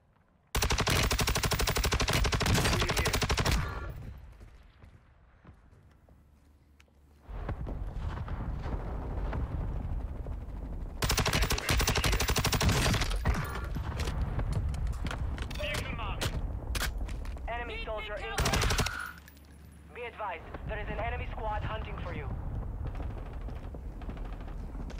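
Gunfire in the Warzone video game on Ashika Island, with HCR 56 bursts that come loud and dense in several long stretches separated by quieter gaps.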